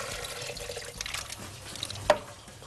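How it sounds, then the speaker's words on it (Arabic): Rinse water being drained off shrimp into a sink, a short run of splashing and trickling liquid with a sharp drip or clink near the end, close and moderately loud. "هصفي الميه"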